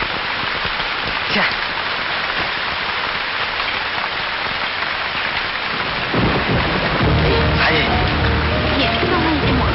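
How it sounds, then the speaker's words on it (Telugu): Heavy rain pours down in a steady, loud hiss on surfaces, with low thunder rumbling in partway through and voices faintly under the downpour. "వర్షం వచ్చేటట్టుంది"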